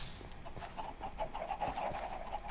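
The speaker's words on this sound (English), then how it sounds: "I'm having a chicken population problem because" Minecraft chickens cluck in a steady run of short, repeated calls that sound close and moderately loud, with no talking over them.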